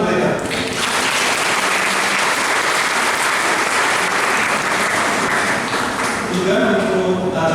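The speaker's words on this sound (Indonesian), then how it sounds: "Tepuk tangan untuk mereka." Loud, sustained applause from a church congregation at an Easter Vigil Mass fills the space, steady throughout with no pauses.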